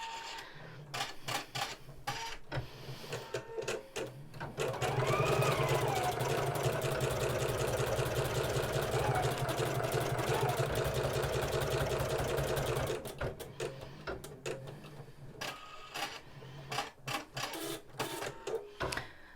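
A home embroidery machine stitches a basting box around the hooped fabric, a steady rapid mechanical whir with rhythmic needle clatter, running continuously in the middle after quieter handling sounds.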